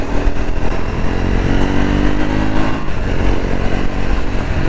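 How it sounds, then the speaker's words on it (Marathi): A Triumph Speed 400, a 400cc motorcycle freshly back from its first service, runs with a loud, close, steady engine drone and a slight rise in revs. No one speaks. "आता जरा बाईक स्मूथ वाटते, जरा चालवतो ना."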